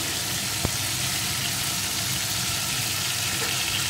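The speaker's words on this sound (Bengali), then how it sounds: "রসুনটাও সুন্দর করে ভেজে নিয়েছি।" Crushed garlic fries in a pan with onion and tomato, giving a steady, close, even sizzle with one small tap partway through.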